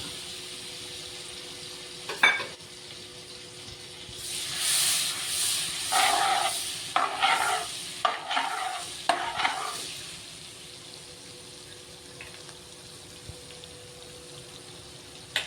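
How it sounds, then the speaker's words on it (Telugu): Amul butter and oil melting in a hot pan for Mumbai-style pav bhaji, giving a soft hiss that swells into bursts of sizzling and a few sharp clinks, close by, then fades back to a quiet simmer. "ఇప్పుడు అమూల్ బటర్ వేసేసుకుందాం. ఓకే, కొద్దిగా అమూల్ బటర్, కొద్దిగా ఆయిల్, 2 మిక్స్ అన్నమాట"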